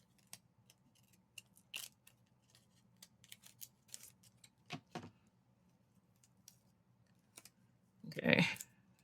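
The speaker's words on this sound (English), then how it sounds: "I'm gonna get my bigger scissors, and I'm gonna do my best to cut this right in the middle" Several short, crisp snips and rustles scattered through quiet, ending in a louder burst of cutting and paper crinkling close by.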